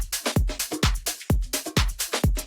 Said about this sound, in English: We can listen to the drums on its own real quick.